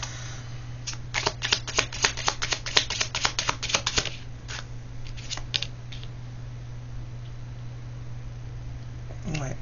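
Oracle cards are shuffled in a quick run of crisp riffling flutters over the first four seconds, close and fairly loud, followed by quieter handling and a low steady hum.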